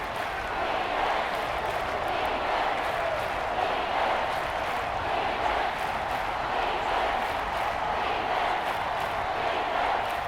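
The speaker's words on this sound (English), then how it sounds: "this crowd making it hard to hear" Stadium crowd at an NFL game between the Dallas Cowboys and Washington Commanders late in the fourth quarter, a steady, dense roar of many voices sustained without a break at fairly loud level.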